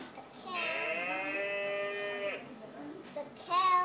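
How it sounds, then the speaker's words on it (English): A cow moos once in a long, low, drawn-out call among farm animal sounds, and a voice is heard briefly afterward. "The cow goes."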